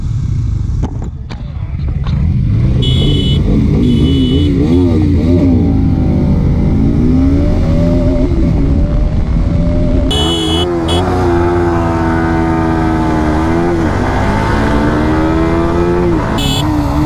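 MT15, R15M, RS200 and Jawa 42 motorcycles racing on a long run, with loud, close engine drone rising and falling through gear changes and steady revving throughout.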